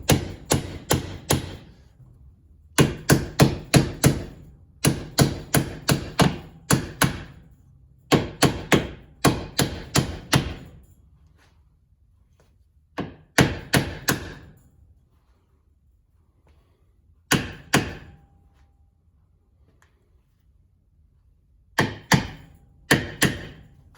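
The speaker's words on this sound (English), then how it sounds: "First thing we're going to do is lightly tap on the outer shell of this bushing in an attempt to get it started straight." Hammer lightly tapping the outer shell of a rear trailing arm bushing held in a vise, close sharp metallic taps in quick bursts of four to eight strikes separated by short pauses.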